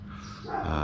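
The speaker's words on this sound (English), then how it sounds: "Excuse the dog in the background." A dog barks in the background, a brief faint sound that grows louder toward the end, near a rest stop on a motorcycle tour in central Mexico.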